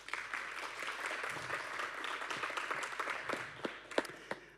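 An audience applauds before a researcher's talk on AI and forests, a steady crowd of clapping hands with a few louder individual claps near the end as it winds down.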